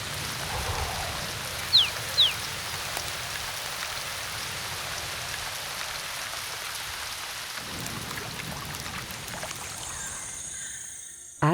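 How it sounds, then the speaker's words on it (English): A heavy, steady rainforest downpour hisses continuously, with a couple of brief chirps early on and the rain easing off at the very end. "A veritable downpour."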